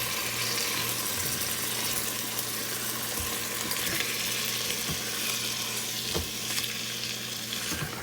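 Chicken pieces sizzle and fry steadily in a hot pan for a Tuscan chicken dish after being flipped, a dense, constant crackle close by with a few soft knocks and no talking.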